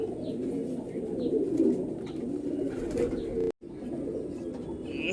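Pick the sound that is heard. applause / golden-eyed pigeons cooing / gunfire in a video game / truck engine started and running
golden-eyed pigeons cooing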